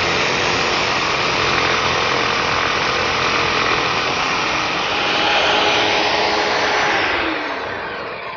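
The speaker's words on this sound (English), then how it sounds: "I'm using this portable oscillating spindle sander, which is handy" Portable oscillating spindle sander truing up the edge of a wooden headboard piece, a steady close motor whine and airy grinding drone that swells briefly near the end before tailing off.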